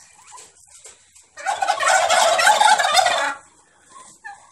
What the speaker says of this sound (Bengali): আমরা তো টার্কি মুরগির ফার্মের পিছন সাইডে এসে পড়ছি এই যে কাছে টার্কি মুরগি